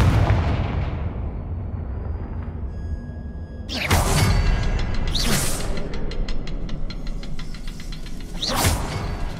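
Fire spell explosions in the video game Hogwarts Legacy, several loud booming blasts spaced a second or more apart over a steady rumbling game backdrop.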